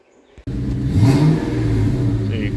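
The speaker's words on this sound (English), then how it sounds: "Rev her up, comes right back down." A 1999 Mustang Cobra engine catches after a brief quiet moment and revs up loudly, then settles back toward a steady idle, heard close with no talk.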